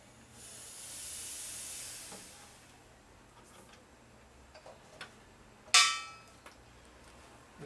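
A brief sharp hiss of spit hitting the hot metal of a 1983 Harley-Davidson FXRT Shovelhead motorcycle, with faint ticking and a soft earlier hiss in a quiet room.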